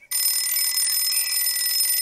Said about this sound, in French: Enfin, son réveil donne le top départ.